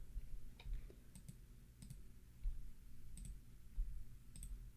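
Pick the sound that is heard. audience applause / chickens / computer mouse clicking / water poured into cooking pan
computer mouse clicking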